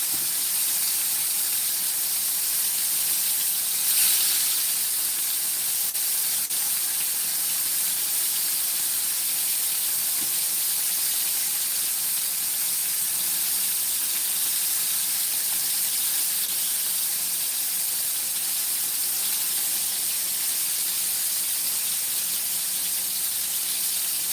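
Liver frying in very hot oil, a loud, steady sizzling hiss that carries on for the whole stretch with only slight swells, close up and with no voices.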